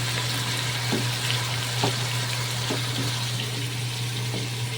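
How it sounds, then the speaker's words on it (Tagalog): Water pours steadily into a cooking pot of frying hotdogs with mung beans in a home kitchen, a continuous loud rushing wash over a low hum, with a few faint clinks. "lagyan natin ng tubig"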